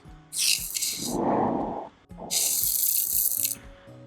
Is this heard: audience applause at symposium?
no